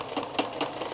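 A sewing machine stitches through quilt batting with a soft, continuous whir and a few faint pulses, steady and close for about a second.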